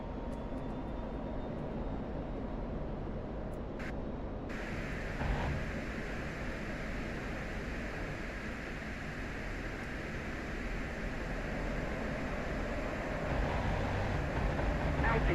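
A constant, fairly quiet drone of an aircraft engine in the DCS flight simulator game plays as a steady background hum with no break or change in pitch.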